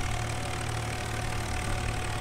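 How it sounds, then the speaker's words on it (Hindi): Farming Simulator 19 tractor engine held at full RPM, a steady dense drone with a low hum, loud and unbroken throughout, no talk. "ये देखो फुल आरपीएम पे चल रहा अपना ट्रैक्टर, फुल आरपीएम"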